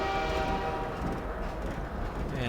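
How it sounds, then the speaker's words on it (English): Half-Life 2 train rolling through an industrial area: a steady, loud, continuous rumble of the railcar with a droning tonal hum, no talking over it. "Alright, so we start off in a train."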